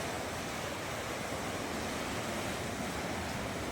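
Sea waves wash onto the shore after a storm, a steady broadband surf roar with wind noise on the microphone and no voices.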